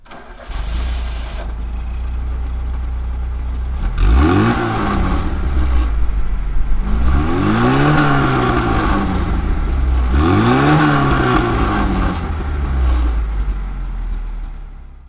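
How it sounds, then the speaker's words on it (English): A Lada 1300 SL (VAZ 2106) car engine revs up three times in a row, its exhaust rising in a throaty climb and falling back to a rumbling idle between each rev. "just listen to that exhaust."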